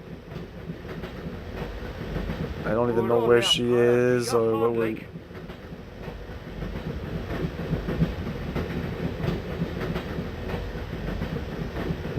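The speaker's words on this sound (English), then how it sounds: "I'm going to climb on top of the train." A train in the video game Broken Sword rolls along with a steady rumbling clatter under a voice, and a spoken line breaks through midway.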